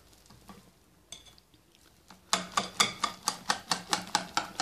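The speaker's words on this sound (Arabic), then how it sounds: "غنخلطو مزيان." Cake batter with flour being mixed for a spongy cake: a few scattered scrapes, then a quick, regular run of close, crisp whisking or stirring strokes against the bowl, about five per second.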